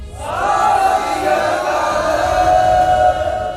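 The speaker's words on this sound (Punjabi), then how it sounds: "ਤੁਸੀਂ ਜੈਕਾਰਾ ਗਜਾਓ ਗਿਆਨੀ ਜੀ" A large crowd roars a Sikh jaikara war cry in a Punjabi film, one loud sustained shout that swells quickly and holds for a few seconds.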